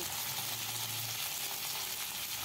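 Onions and chopped drumsticks for sambar fry in a pan over low heat, giving a steady, close, even sizzle with no speech throughout.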